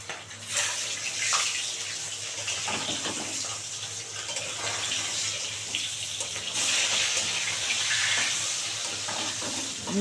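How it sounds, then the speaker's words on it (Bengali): Katla fish pieces frying in oil after being turned over, a continuous close sizzling hiss that swells louder toward the end. "মাছ ভালোভাবে ভাজা হয়ে গেছে"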